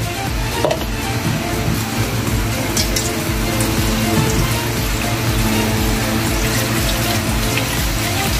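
Continuous splashing rush of hot water being poured over noodles, steady and fairly loud, with no talking.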